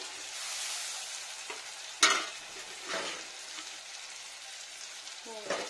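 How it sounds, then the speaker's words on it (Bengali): Steady sizzle of spices and cumin paste frying in a pan, with scraping stirs and a few sharp clinks of a spoon against the pan. "আগে একটু নাড়া দিই জিরে বাটাটার সঙ্গে"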